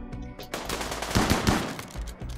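Repeated shotgun blasts from combat in the colony-survival video game RimWorld, a burst of close, loud booming shots clustered mid-clip over a busy game soundscape.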